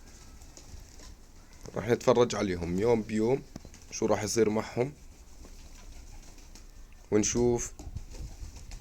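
Pigeons on a rooftop coo in soft, throaty bursts close by, with someone talking over and between the calls.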